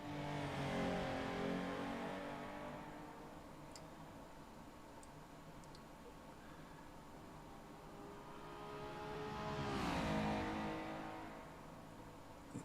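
A McLaren Artura coupe with a 7-speed transmission, driven in a racing sim on the Nordschleife, revs and rises through gears, swelling loud, easing, then surging again near the end, no voices.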